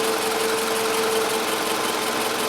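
A car engine idles steadily while warming up to operating temperature before an automatic transmission fluid check, a constant loud hum with a faint knocking texture and no voices.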